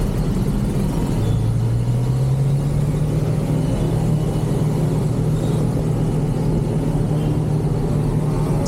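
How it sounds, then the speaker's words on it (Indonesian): Busy night traffic at the Cimindi flyover intersection in Bandung, with minibuses, cars and motorbikes jostling past; a continuous loud rumble of engines and tyres with one engine note rising as a vehicle accelerates nearby. "Begitu hiruk-pikuknya kondisi jalan yang dipenuhi oleh kendaraan yang hilir mudik melaju di persimpangan ini."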